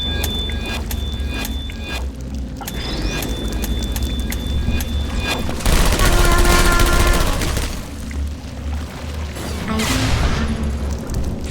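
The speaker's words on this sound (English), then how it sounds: "He got his hands on the old turrets." Old turrets firing in the video game Portal Stories: Mel, with rapid bursts of mechanical gunfire repeating over several seconds, dense and loud, alongside game tones and effects.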